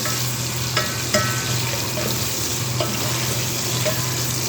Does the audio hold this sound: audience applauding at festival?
no